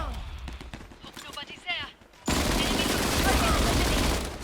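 Gunfire in the video game Disorder erupts as a dense, loud burst of rapid shots after a stretch of someone talking over game sounds, the shooting continuing to the end.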